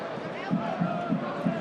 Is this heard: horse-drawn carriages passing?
no